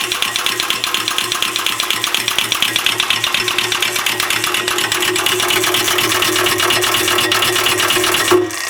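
A Graco heavy-duty drum ram with a Monarch pump runs loud and close, a rapid, even mechanical pulsing with a steady hum underneath, continuing throughout before a brief change at the very end.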